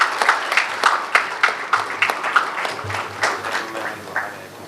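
Audience applause at the grand opening ceremony of a lovebird society in Karachi, a close, fairly loud patter of clapping from a modest crowd, steady throughout.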